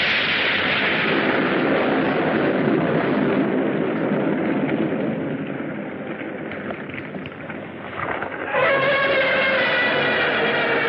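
Weapons fire in a 1966 Gammera monster film, a dense sustained barrage of booming blasts and rumble that swells, dips briefly, then surges again loudly, with no talk over it.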